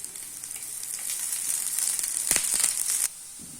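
A veg burger tikki frying in oil on a tawa over medium heat, giving a continuous bright sizzle with a few crackles before the sound drops away near the end.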